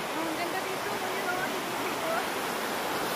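A mountain river in Pugo rushes loudly near a dam and an old bridge, a steady broadband hiss of water that stays constant and close throughout.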